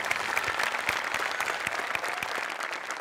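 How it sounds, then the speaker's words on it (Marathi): A studio audience at a Marathi comedy show breaks into lively applause for a performer, with dense, steady clapping and a few sharper individual claps standing out close by, continuing for a few seconds. "आणि तुझ्यासाठी जोरदार टाळ्या"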